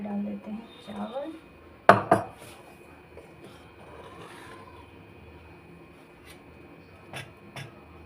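Metal utensils clink and clatter in a home kitchen as rice is served onto a plate alongside rajma. Two sharp close knocks land together, then softer scattered taps follow over quiet room noise.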